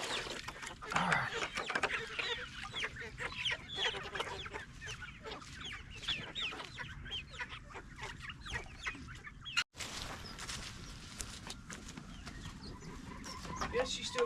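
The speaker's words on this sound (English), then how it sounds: "That's a golden rooster, and them are pumpkin hens" Chickens on a Tennessee homestead, a golden rooster with pumpkin hens, clucking repeatedly nearby in rain, with a person talking over the birds.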